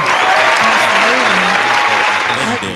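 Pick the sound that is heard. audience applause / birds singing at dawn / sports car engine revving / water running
audience applause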